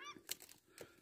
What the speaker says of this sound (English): Paradise ducks. Fucking noisy.